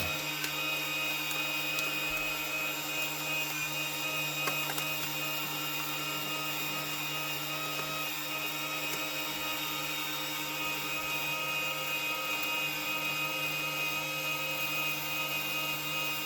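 An ALM 3230 film sealing machine runs with a steady mechanical hum and whir, holding an even level throughout with no talking.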